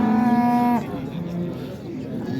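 A cow at a livestock market in Yangiqo'rg'on lets out a loud, close, tonal moo that lasts under a second, followed by market murmur and faint voices in the background.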